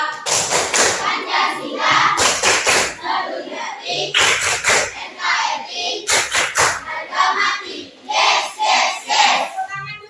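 A class performs the rhythmic Tepuk Pancasila clapping chant, with bursts of group claps in repeated patterns mixed with voices, loud and close in a classroom.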